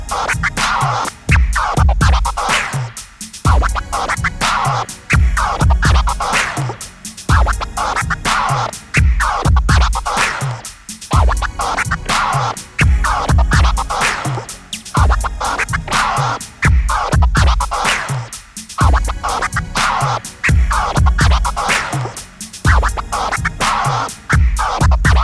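DJ scratch combo cut rhythmically over a steady hip-hop beat, sharp repeated record scratches riding loud and continuous on top of punchy drums throughout, with no talking.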